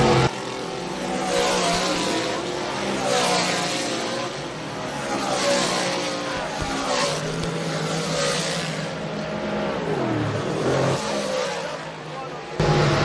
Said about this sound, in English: Matty Ice, Matt Stangl is in the second Ryan Krachin car.